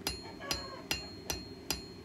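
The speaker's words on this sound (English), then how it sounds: "Now I'm using the peen on my cross peen hammer to add a little texture" A cross peen hammer's peen strikes hot forged metal to texture the center petal of a blacksmithed piece, five sharp evenly spaced ringing blows about 0.4 seconds apart, close and clear with no voices.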